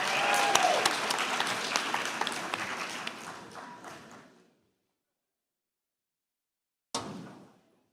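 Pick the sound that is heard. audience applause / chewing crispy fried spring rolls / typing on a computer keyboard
audience applause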